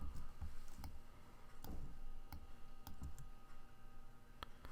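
Keys pressed on a Mac keyboard for Command X and Command V shortcuts, a scattering of faint, crisp clicks spaced irregularly over a quiet room background.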